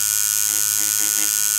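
A micro scalp pigmentation tattoo machine runs in a hair salon with a steady, even electric buzz and hum that holds unbroken at moderate loudness.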